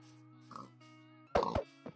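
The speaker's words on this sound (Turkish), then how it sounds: "Yerden domuz sesi duydum." A pig in Minecraft grunts a few times, short nasal oinks over a steady game background, the loudest a close double grunt near the end.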